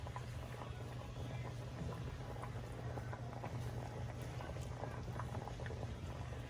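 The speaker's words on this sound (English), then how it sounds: "We're gonna let the lobster meat boil for about a minute or so." Water at a steady rolling boil in a pot with lobster meat added after noodles, a continuous dense bubbling churn held close and loud for the whole stretch with no talking.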